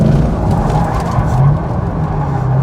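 A stock Corvette C6 circles at full steering lock while trying to drift, its engine a loud, steady low roar with a rumbling, broadband tire and exhaust wash throughout.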